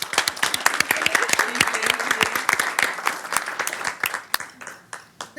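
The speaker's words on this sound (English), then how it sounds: "Let's give them a round of applause" Audience at a school board work session claps in a steady burst of applause, dense and close, with scattered louder individual claps and faint voices mixed in, tapering toward the end.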